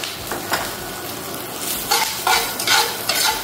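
Chopped andouille sausage frying in olive oil in a cast iron pan, a steady close sizzle with several louder bursts of crackle and stirring scrapes toward the end.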